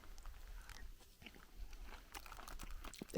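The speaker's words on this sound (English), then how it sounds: "So let's try this chocolate muesli." Crunchy chocolate muesli from a French 24-hour MRE ration (Menu T10) is chewed close up, giving a steady run of crisp crunching bites with no talk.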